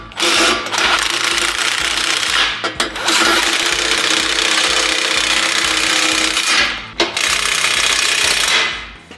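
Exhaust clamp on a RAM 5.7L truck being tightened with a 16 socket: a loud, continuous rapid rattling hammer of a power tool that runs almost without pause, with two brief breaks, close by.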